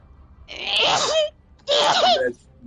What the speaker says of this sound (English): My sneeze was so loud.